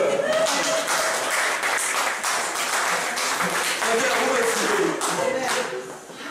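A church congregation claps and cheers steadily, a dense wash of applause with raised voices that holds throughout before tapering off at the end.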